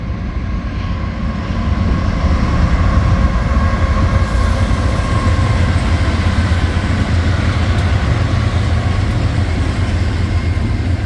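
Train passing under a newly built road overpass at Marquardt and Rosecrans, a loud continuous rumble and roar that swells after the first second and stays steady and close.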